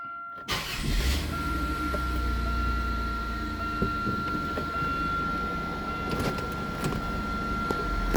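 A one-owner 2002 Buick Regal with 163,000 miles cranks over and catches, then settles into a steady, close idle with a high whine running throughout.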